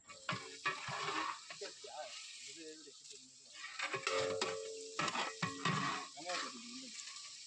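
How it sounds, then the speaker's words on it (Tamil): Onions, cinnamon, cloves and green chillies sautéing in oil for a large catering batch of chicken biryani, with irregular scraping and clattering stirs over a sizzle, alongside some tonal clanks or voice-like sounds. "எண்ணெய், பட்டை, லவங்கம், வெங்காயம், பச்சை மிளகாய் எல்லாத்தையும் போட்டு நல்லா வதக்கணும்"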